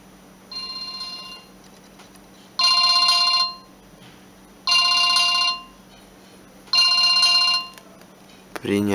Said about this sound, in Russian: Можно включить ложный вызов.